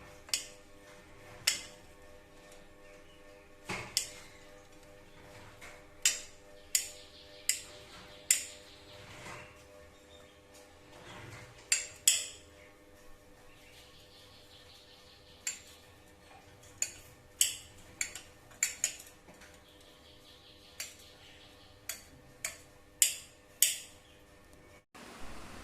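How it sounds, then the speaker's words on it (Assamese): A knife cuts two boiled eggs into small pieces for an egg sandwich, giving sharp, irregular clicks and taps close by with short quiet gaps between them. No one speaks. "এতিয়া মই কণী দুটা এনেকে সৰু সৰু টুকুৰাকে কাটি লৈ লম"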